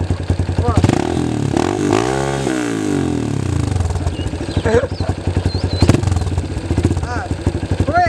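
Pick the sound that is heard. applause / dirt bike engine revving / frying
dirt bike engine revving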